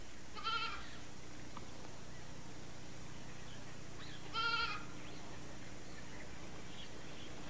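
Two short goat bleats sound at a distance, one near the start and another around the middle, over a steady hum of forest ambience in Sasan Gir National Park, where rangers walk with goats.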